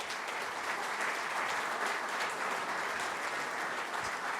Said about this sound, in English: Big round of applause for Pat, guys.